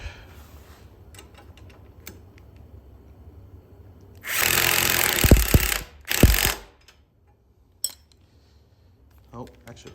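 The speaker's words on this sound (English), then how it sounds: "This is a 5/16 nut and washer combination with the bolt. Obviously grab a 1/2 inch." A 5/16 nut and bolt being tightened with a 1/2 inch wrench during go-kart assembly: a loud buzzing ratcheting burst lasting about two seconds, a short second burst, then a sharp metallic clink and faint taps.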